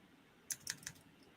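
A few quick clicks on a computer keyboard, about four sharp keystrokes in a short burst near the middle. The surroundings are otherwise quiet.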